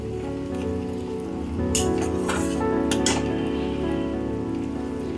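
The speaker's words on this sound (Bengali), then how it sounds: "এবার এই মশলাটাকে ভালো করে ভেজে নেব।" Spice masala with turmeric fries in a pan with a soft, crackling sizzle over a low hum, and a few sharper bursts of spatter and scraping in the middle.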